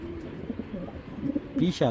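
A top-quality racer pigeon gives a few soft, close coos, brief throaty rolling calls, the last ones loudest, over a quiet room with faint background murmur.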